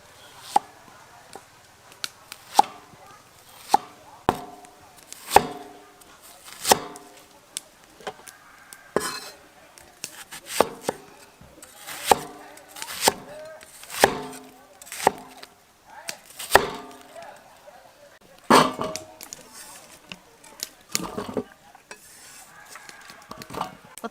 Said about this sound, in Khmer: ឥឡូវយើងចាប់ដើមហាន់ខ្ទឹមបារាំងសិន